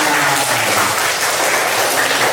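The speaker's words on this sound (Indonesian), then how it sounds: "tepuk tangan semuanya" A classroom of schoolchildren clapping together loudly and close, a dense continuous burst of applause lasting a couple of seconds with no talk over it.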